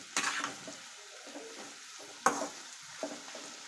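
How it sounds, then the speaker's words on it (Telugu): Onion pakoda batter stirred in hot oil in a kadai, with two sharp scraping clatters of the spoon against the pan over a soft, steady sizzle of frying, and quieter stirring knocks between them. "ఇప్పుడు ఆయిల్ కింద జారింది కాబట్టి ఇలా కలుపుతున్నా కానీ కడాయి కదులుతుంది"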